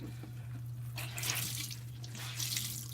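Cold water runs from a bathroom tap into a sink, a faint steady splash that grows louder after the first second, over a constant low hum.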